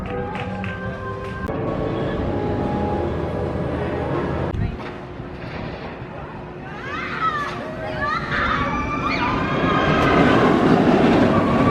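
Kraken, a B&M roller coaster in Florida, roars along its track in a constant loud rumble, with riders' screams and shouts rising over the clatter near the end.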